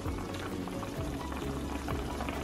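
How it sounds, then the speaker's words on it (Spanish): Pork ribs simmering in a pot of water with onion, garlic and salt on a stove, giving a steady, continuous bubbling and soft liquid churn throughout, with no talk over it. "tengo las costillitas cociéndose"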